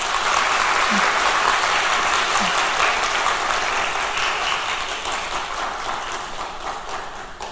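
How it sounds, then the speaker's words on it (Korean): A church congregation at a Korean intergenerational Sunday service applauds to welcome a new staff member, a steady dense wash of many hands clapping that carries through, tapering slightly toward the end. "우리 다 함께 박수하도록 하겠습니다"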